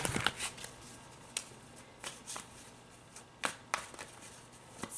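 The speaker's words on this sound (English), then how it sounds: "So let me give these one last shuffle." A deck of tarot cards being shuffled by hand, close up, with repeated crisp riffling flurries and soft taps over several seconds in a quiet room.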